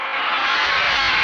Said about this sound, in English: this is what we end up with that stretched out elephant sound